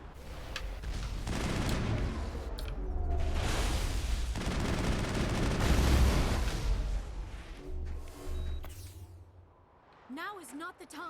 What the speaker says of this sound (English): there's something large up ahead that is shooting rockets at us